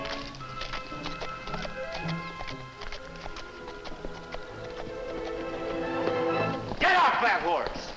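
A horse's hooves clip-clop in a steady rhythm as a rider arrives on a trail, heard under music, ending in a sharp whinny-like burst near the end.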